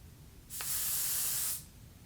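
A single sustained hiss of aerosol hairspray lasts about a second, bright and close, then stops abruptly against a quiet background.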